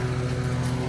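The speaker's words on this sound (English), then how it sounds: "Excuse the lawnmower." A lawn mower engine drones steadily in the background of a garden, a constant low motor hum with even harmonics that holds without a break for the whole second.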